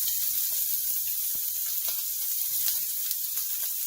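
Shrimp searing in a hot pan for shrimp pasta: a steady, dense sizzle and hiss runs throughout, close and even, with a few faint pops and ticks.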